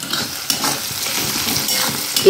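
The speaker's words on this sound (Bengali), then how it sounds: "এবার কন্টিনিউয়াস নেড়েই যেতে হবে।" Spinach and paneer sizzle steadily in a hot pan on high heat while a utensil scrapes and stirs through them continuously, close up, with occasional louder clinks.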